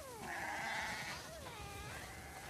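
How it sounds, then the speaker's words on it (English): Sheep bleating in the video game The Last of Us Part II, a wavering nasal bleat and a second softer call, close and clear over quiet ambient background with no talk. "Man, y'all got a whole bunch of fucking sheep."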